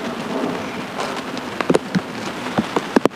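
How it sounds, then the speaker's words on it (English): Steady rain falls during a thunderstorm at a campsite, a dense continuous patter close by with several sharper drips and knocks on a shelter overhead, with no voices. "Absolutely love camping in the rain, in a thunderstorm"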